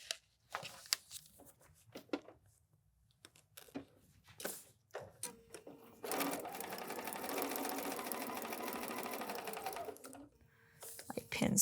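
A home sewing machine stitches foundation paper piecing in one sustained run of several seconds, framed by quiet talk, clicks and fabric handling before and after.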